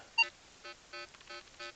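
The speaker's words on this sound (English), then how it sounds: "can hear that iron tone in the background there" Outdoors in a field, a metal detector gives a faint, repeated iron tone, several short electronic bleeps spaced at steady intervals, heard alone and fairly distant.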